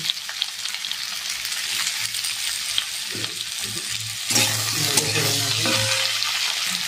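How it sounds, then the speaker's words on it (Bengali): Potato pieces fry in hot oil left over from frying fish for a rohu curry, a steady close sizzle that swells louder midway as they are turned, with scraping stirs of a spatula. "ওই তেলের মধ্যে আলুগুলো ভেজে নেবো।"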